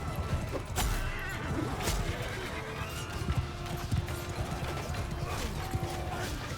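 Horses move about in a Mount & Blade II Bannerlord battle, hooves clopping irregularly amid creaks and clattering gear, a busy, fairly close mix with no speech.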